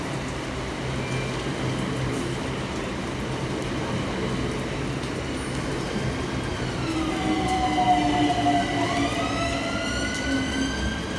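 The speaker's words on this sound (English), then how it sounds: "Arriving next in the pouring rain is 376015 and 376001 with the 1719 Southeastern service from Hayes through to London Charing Cross." Southeastern Class 376 electric trains pull into a station on the Hayes line in pouring rain, a steady rumble and hiss building as they approach, then rising and falling tonal whines from traction motors and brakes near the end.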